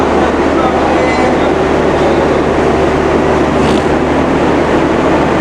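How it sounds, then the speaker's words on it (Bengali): The Madhumati Express sits at Ishwardi railway junction, giving off a loud, continuous rumble with faint clanks and a brief squeal near the middle. "আর এই যে আমাদের মধুমতি এক্সপ্রেস ট্রেন এখানে সম্ভবত ইঞ্জিন ঘোরাবে"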